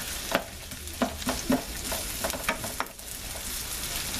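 Diced potatoes fry in sausage grease in a pan, a steady close sizzle with scattered sharper pops and scrapes of a utensil stirring through them, no talking.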